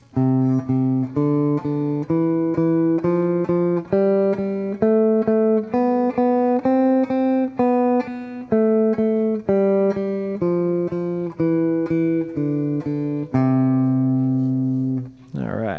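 A guitar plays a rising and falling scale, each note struck twice in an even, steady rhythm, ending on a held note.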